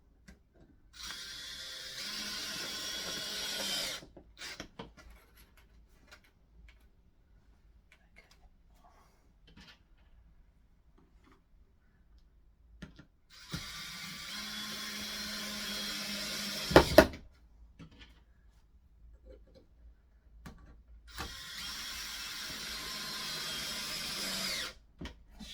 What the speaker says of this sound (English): Screw it back into place.